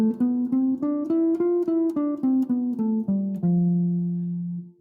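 A Lydian scale with its raised fourth, played as a run of separate clear pitched notes climbing and falling in steady rhythm, ending on a long held low note that fades out; nobody speaks over it.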